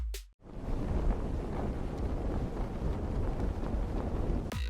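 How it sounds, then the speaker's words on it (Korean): Strong wind roars steadily, dense and rumbling with gusty buffeting across the microphone, sustained loud throughout after a brief dip near the start, no voices. "세찬 바람소리"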